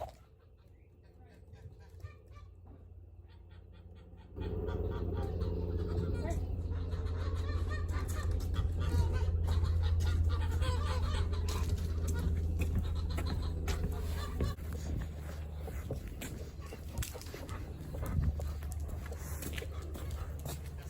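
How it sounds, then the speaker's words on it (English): Geese honk and chickens cluck nearby on a homestead over a steady low hum, with scattered squawks and calls running throughout. "So the sheep and the geese will go in there, and I'll swap them with the chickens."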